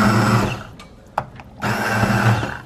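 Hand blender whirring through homemade squash soup in a bowl, a loud buzzing motor that cuts out briefly with a small knock, then starts up again and runs steadily to the end.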